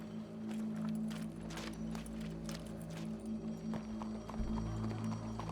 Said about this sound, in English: Go brush that horse